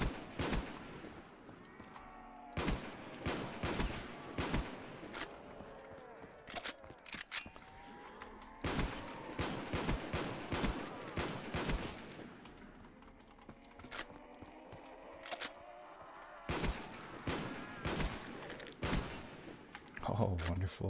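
Gunfire from a Call of Duty Zombies match, with loud, sharp shots arriving in irregular bursts and clusters throughout, over a steady game-ambience bed and brief speech.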